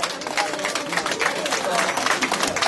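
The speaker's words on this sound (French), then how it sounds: "Sous vos applaudissements" An audience at a concert hall applauds to welcome a singer, with steady, dense clapping and crowd noise filling the space while a voice speaks over it.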